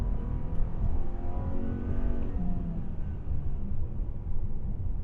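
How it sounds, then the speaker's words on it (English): A 2025 Subaru Forester Sport accelerates hard from inside the cabin, a steady rising engine drone with tire and road roar, continuous and moderately loud without talk. "You can definitely hear the motor upon acceleration"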